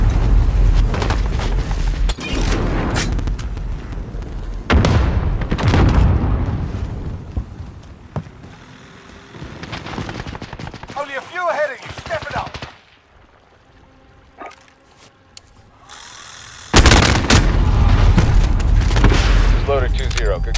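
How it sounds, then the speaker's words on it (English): Cluster strike bombardment in Call of Duty Modern Warfare: loud repeated explosions and heavy gunfire bursts, booming blasts rolling in waves with a brief lull before a final heavy impact, with radio voices talking amid the chaos. "Cluster strike is go for launch."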